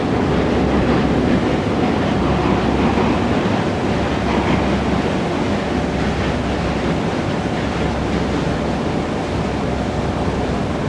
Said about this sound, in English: can you hear the subway train on the Manhattan Bridge?